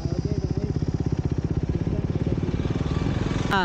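Motorbike engine running close by with a fast, rhythmic chugging pulse carrying a passenger, steady and moderately loud with a brief clatter near the end.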